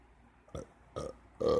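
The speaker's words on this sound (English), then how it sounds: "why'd you burp like that?" Three short burps come in quick succession, each louder than the last, with the final one the fullest and most drawn out, heard up close in a quiet room.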